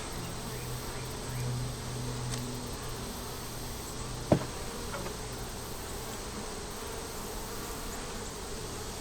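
Honey bees buzz steadily around an opened hive during an inspection. The soft, continuous hum fills the whole stretch at low volume, with one sharp click partway through.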